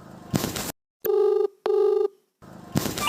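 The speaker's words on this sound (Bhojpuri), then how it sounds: "आही रे दादा ई केकर फोन आ गइल।" A telephone ringing with two sustained electronic ring bursts in a short gap between bursts of noisy music, loud and close, no talking.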